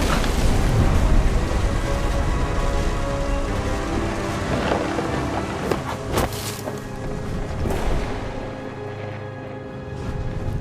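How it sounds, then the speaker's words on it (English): A thunderstorm in the video game What Remains of Edith Finch: dense, steady rain roars throughout, with deep rumbles of thunder rolling beneath it and a few sharper swells. "The thunder sounded much too close and full of angry power."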